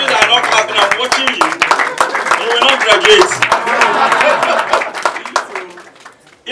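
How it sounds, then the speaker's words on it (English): An audience at a talk claps in a dense patter of sharp hand claps that runs alongside someone speaking loudly, then tapers off near the end. "When you clap, it inspires us."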